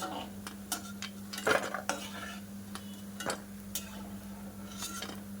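Fried chana dal being scooped out of a pan onto a plate, with scattered scraping and clinking of a spoon against metal in quick irregular strokes over a faint steady hum, fairly quiet and close.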